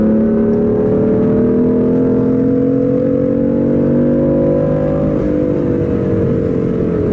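A BMW engine pulls hard under acceleration while the car is driven, its steady rising drone loud and continuous for the whole stretch and revving toward a high limit, with no one talking.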